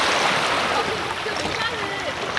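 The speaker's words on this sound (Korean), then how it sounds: "파도가 잔잔하게 치는구나." Gentle sea waves washing softly against the shore at a beachside camping spot in Pohang, a steady, near wash of surf and splashes heard without talk.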